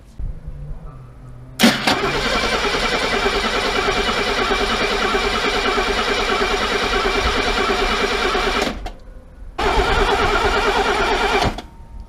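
A freshly rebuilt Mercedes W114 engine cranks and catches, then runs at a loud, steady, close idle, cuts out briefly, and fires up again for a second run.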